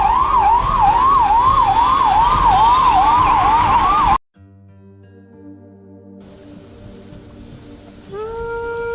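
A loud ambulance siren wails in a rapid, rising-and-falling cycle for about four seconds at an accident scene, then cuts off abruptly to quiet hum and steady electronic tones.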